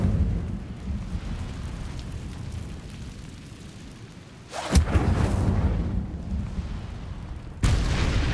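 A fire spell cast in the Hogwarts Legacy video game, heard as two sudden loud whooshing bursts over a constant low rumbling game backdrop, the first flaring around midway and the second near the end.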